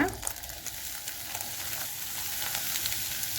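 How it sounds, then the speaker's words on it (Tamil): Eggs and capsicum sizzling steadily in a hot pan for a quick children's breakfast, a constant loud crackle with occasional stirring scrapes throughout. "முட்டை கொஞ்சம் வெந்து வரும்போது இதில் போட்டிருக்கிற குடமிளகாவை அதில் கொட்டுங்க"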